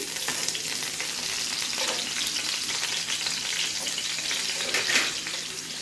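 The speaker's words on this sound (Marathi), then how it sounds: "आपल्याला आता बटाटे शिजवून घ्यायचे तेलामध्ये." Potatoes fry in hot oil in a pan for sabudana khichdi, giving a continuous, close, even sizzle with light stirring scrapes and no voices.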